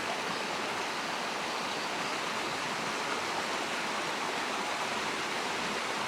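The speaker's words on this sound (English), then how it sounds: "Lovely spot, just listening to the river." A small river flows steadily, a continuous rushing and babbling of water close by with no other sounds.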